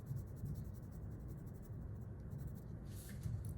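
Coloring tool scratching steadily across paper while shading a dark area under a desk in a room drawing, a soft continuous rasp heard up close with no talking.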